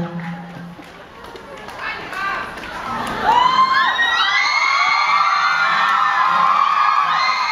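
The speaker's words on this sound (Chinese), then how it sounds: "掌声鼓励谢谢他们" An audience cheers and whoops at a live music performance, a rising wave of excited shouts and high yells that builds and holds loud after a quieter, murmuring start.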